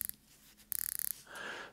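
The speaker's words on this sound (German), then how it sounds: "Die Keramiklünette rastet mit 120 Klicks." A rapid run of about a dozen small, crisp ratcheting clicks from a ceramic watch bezel with 120 clicks, close and fairly quiet, with a brief scrape before and a soft rustle after.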